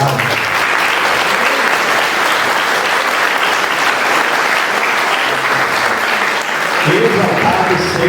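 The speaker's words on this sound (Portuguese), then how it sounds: "Vamos aplaudir mais uma vez o nosso Deus por essa maravilhosa palavra." A church congregation applauds in sustained, dense clapping that stays loud and steady throughout, with a few voices rising near the end.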